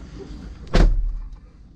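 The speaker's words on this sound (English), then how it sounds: "And then we'll get in and shut the door so you guys can see it with" A Chevrolet Suburban door shuts once with a single close, heavy thud, following a brief quiet moment.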